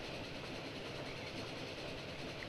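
Train pulling into a station in the Transport Fever 2 video game, a steady rumbling roll with a faint clickety-clack of wheels and a low engine hum, continuous and even, no voices.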